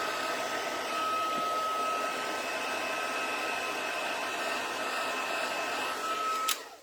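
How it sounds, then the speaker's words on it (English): Heat embossing tool blowing hot air over a card, a steady whirring hiss with a thin motor whine that stops abruptly near the end with a click, with no talk. "it is magic, Lynn. Heat embossing every time"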